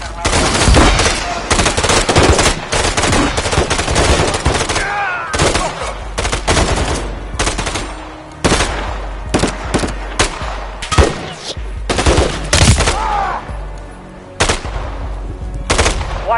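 Rapid automatic gunfire in a Call of Duty campaign mission against a heavily armored target, loud sustained bursts and sharp single shots crackling close by in quick succession, with brief pauses between volleys.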